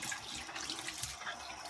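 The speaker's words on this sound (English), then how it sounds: "we're going to rinse it with warm water" Warm water rinsing over skin, a faint, steady trickle of running water with soft splashes, heard close and alone.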